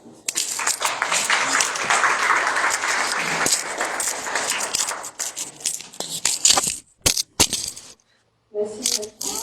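A church congregation applauding the pastor: loud, dense clapping that swells for several seconds, then thins into scattered claps and breaks off into near silence before a few more claps.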